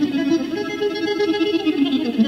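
An eBow sustains electric guitar string tones as an even, droning, bowed-like note with a slowly wavering, effects-colored texture, played alone and moderately loud.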